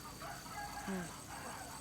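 Penned ducks on a rural vegetable farm in Korat give faint, distant quacks over a steady outdoor background hum, with one brief, clearer call partway through.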